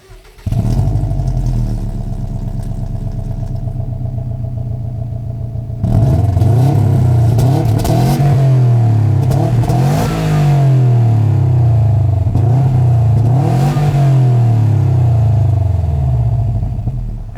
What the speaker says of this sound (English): I'll let you guys hear what that Boxer 4 sounds like.